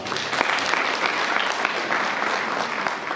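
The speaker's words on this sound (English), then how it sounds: "A round of applause for her." A conference audience at a women in agribusiness event claps steadily and loudly to welcome a speaker, a dense, even wash of applause throughout.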